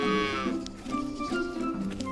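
An animated calf gives a single drawn-out, close moo with a wavering pitch that lasts about two seconds.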